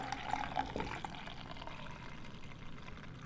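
Norwegian Imperial Stout, a beer thick like tar, glugging and splashing as it is poured into a glass. The pour is steady and close, strongest in the first second, then eases into a softer continuous fill.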